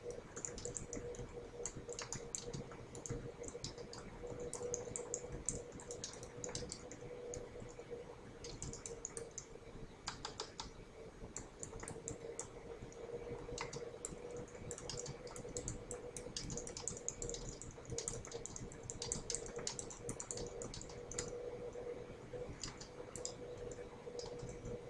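Computer keyboard typing while a spreadsheet formula is entered, a long run of quiet, irregular key clicks in a faint, steady room hum.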